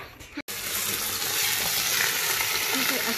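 Vegetables fry loudly in a pan, with celery among them. The sizzle is a dense, constant hiss after a brief stir or clatter at the start, heard close up without speech.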